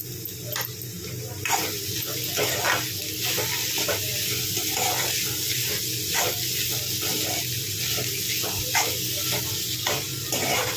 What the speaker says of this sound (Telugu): కారం వేసాక ఇలాగే ఒక 2 మినిట్స్ ఫ్రై చేసుకోండి